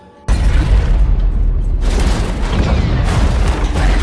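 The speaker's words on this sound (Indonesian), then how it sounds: "Dalam perjalanan, seseorang meledakkan mobilnya begitu saja." A car explodes in an action film, a sudden loud boom that bursts out of near silence and rolls on as heavy rumbling and debris noise for several seconds.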